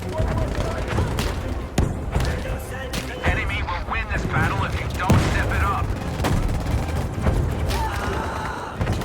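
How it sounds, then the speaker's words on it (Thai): Rapid bursts of Battlefield V gunfire and explosions crackle and boom in dense volleys, with shouted voices over the top. "กระสุนมาจากฝั่งนี้กระสุนมาจากฝั่งนี้"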